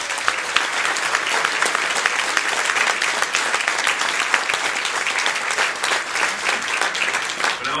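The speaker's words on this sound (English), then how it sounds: "can I ask you for a warm round of applause for all our nominees this evening" An audience at a community heroes awards evening in a hall applauds the nominees with warm, sustained, dense clapping that stays steady and fairly loud throughout.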